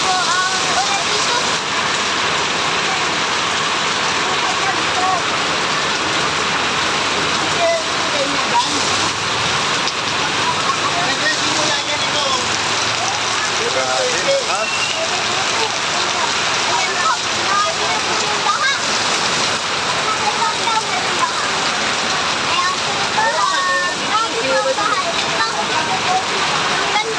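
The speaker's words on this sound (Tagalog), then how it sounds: "Grabe po ang ulan dito." Heavy downpour pours down on flooded ground with a full drain channel, a dense continuous hiss of rain splattering on surfaces, loud and unbroken throughout with scattered splashes.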